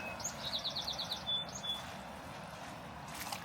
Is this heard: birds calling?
yes